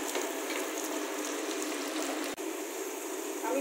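Onions sizzling in a pan with added salt while cooking Bengali-style mutton kosha, a steady close hissing fry that runs unbroken except for one brief dip.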